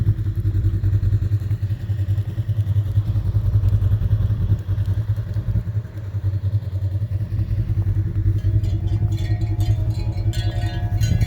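A Polaris RZR side-by-side engine runs in the snow in Pensacola, Florida, with a loud, steady low rumble and a faint clattery texture, close by and with no talk over it.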